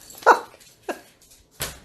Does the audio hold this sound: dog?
yes